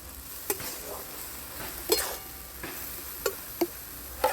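Sugar mixed with milk powder being stirred into carrot halwa in a pan, giving a soft scraping stir under a faint sizzle with a few sharp spoon taps spaced irregularly.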